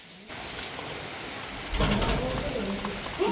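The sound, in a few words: rain falling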